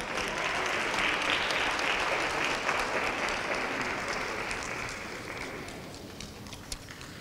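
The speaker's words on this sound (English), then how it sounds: "Please give a round of applause again for our high school" An audience at a March 2015 science and engineering awards ceremony applauds a high school winner, a dense, even wash of clapping that gradually thins and quiets toward the end.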